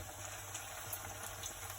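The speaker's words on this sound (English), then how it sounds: "The oil needs to be hot enough so that when you put the burgers in there, it sizzles." Split pea veggie burgers fry in a pan of hot oil, giving a steady, dense sizzle and crackle that runs unbroken throughout at moderate loudness, with no voices.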